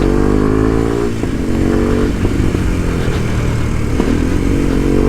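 A Kawasaki Ninja 125 motorcycle engine runs alone and close, a loud steady buzzing drone with small rises and dips in pitch over about five seconds.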